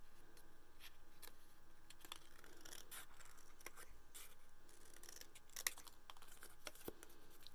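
Scissors snip paper into leaf shapes for note cards, quiet repeated cuts and rustling close by, with a couple of sharper snips near the end.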